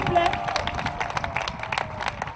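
Crowd at the closing campaign rally for Gabon's 2018 legislative and local elections, brief bursts of clapping and cheering mixed with crowd noise and some voices, loud and close, with uneven peaks over a couple of seconds.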